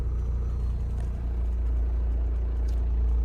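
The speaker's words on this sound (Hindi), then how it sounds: "पूरी गाड़ी में दर्र मतलब ना एक बहुत अजीब सी वाइब्रेशन है। आपको आवाज आ भी रही होगी।" A car with an automatic gearbox idles in drive, shaking with strong, abnormal vibration. It gives a steady, loud, low rumble that holds evenly throughout, with no voices over it.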